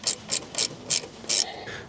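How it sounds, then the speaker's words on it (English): A hub puller ratchets in five quick, evenly spaced clicking bursts while it works a hub off a 1968 Mustang 302 V8 engine, heard close with no talking. "use the hub puller and just work slowly with it."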